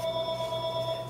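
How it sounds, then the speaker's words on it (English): A telephone rings indoors with a steady electronic trill that pulses evenly throughout, close and clear, with no one talking over it. "That was just the phone real quick."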